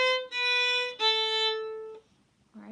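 A violin plays a short Bach sonata passage in half position, with three clear sustained bowed notes rich in bright overtones, close and alone, the last note fading into quiet.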